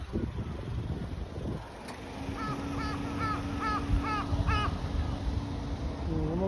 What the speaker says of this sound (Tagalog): Tingnan mo, parang uwak ah.